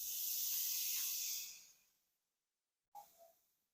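A steak laid on a grill gives a bright, close hiss of sizzling that holds for about a second and a half and then fades out. After a short silence, a brief, fainter sizzle returns.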